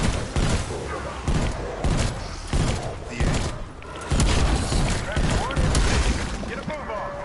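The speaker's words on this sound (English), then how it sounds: "Prepping fire for hand cannon." A hand cannon fires repeatedly in a zombies shooter game, heavy booming shots landing in a loose rhythm amid dense combat noise and game voices.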